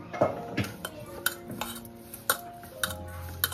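A spoon stirs and scrapes through okra stuffing mixed with oil in a bowl, giving a run of close, soft clinks and scraping strokes in an irregular rhythm, with no talk.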